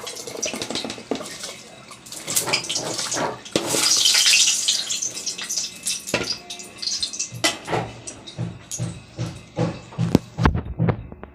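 Hot water is poured into a pot of washed rice for khichuri, starting as a splashing rush and turning into scattered, uneven drips and small splashes, up close.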